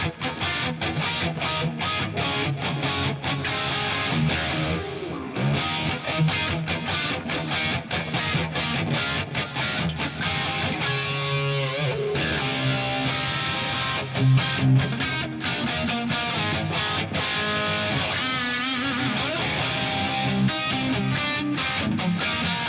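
Electric guitar played through Bias FX, a dense, driven and distorted sound with busy strummed chords and riffs, loud and continuous throughout.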